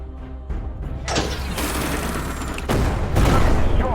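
Artillery fires in Tank Operations: European Campaign during a 1943 Allied invasion of Italy, with loud booming blasts and rumbling bursts that overlap and build, heavier toward the end.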